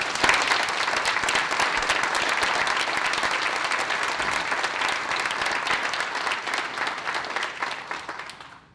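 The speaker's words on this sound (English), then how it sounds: "so we can give you a round of applause" A large audience at a Seattle police chief swearing-in ceremony gives a sustained round of applause, dense and steady throughout before slowly thinning toward the end.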